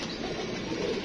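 Pigeons coo close by, a low continuous murmuring burble with soft fluttering, heard alone.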